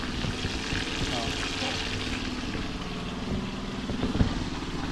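Steady sizzling of tilapia frying in hot oil, with a background engine hum and faint distant voices.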